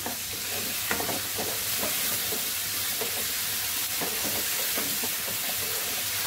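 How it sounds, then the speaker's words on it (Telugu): Tomatoes frying in hot oil for a Telugu paya pulusu curry, a continuous loud sizzle with occasional stirring scrapes and clinks of the spoon against the pan. "ఇప్పుడు మనం టమాటాలు వేసేసుకుందాం. ఇది కూడా బాగా ఫ్రై చేసుకుందాము."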